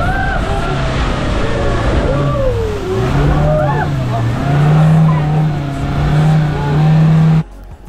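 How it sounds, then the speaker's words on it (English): Motor hum of a speedboat touring around Boracay island, a steady droning engine tone running throughout under constant voices and music-like chatter, cutting off abruptly at the end. "we got to join him for free and had a tour of Boracay on a speedboat"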